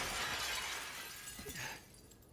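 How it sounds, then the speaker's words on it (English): A glass window shatters in the video game Silent Hill 2, a single close, bright crash that trails off into tinkling shards within about two seconds. "Game is telling us we can break glass."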